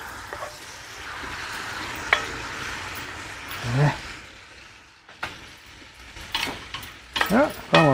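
Goulash meat sears and gets stirred in a pot over a wood fire, a soft sizzle running under scraping stir strokes, with a few sharper knocks near the end and talk over the top.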